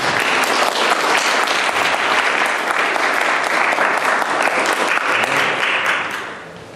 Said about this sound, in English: Here she comes. A big round of applause.